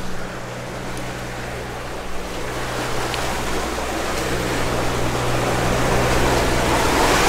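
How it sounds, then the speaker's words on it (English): Steady broadband wash of ocean waves from every direction and wind on a sailboat passage from the Bahamas to Charleston, with a low motor drone humming beneath, continuous and fairly loud throughout. "We've got waves coming from every direction"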